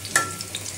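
Onion and garlic frying in oil for a thin beef and potato curry: a quick spoon scrape and stir over a soft, steady sizzle, heard briefly and close without any talking.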